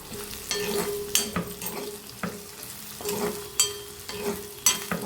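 Bitter gourd with turmeric fries in a pan, a moderate sizzle punctuated by repeated scraping stir strokes at a loose, uneven rhythm.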